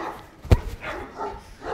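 A large Kangal, an Anatolian shepherd dog, gives a single sharp bark at a farm. Faint background noise and soft vocal sounds come before and after it.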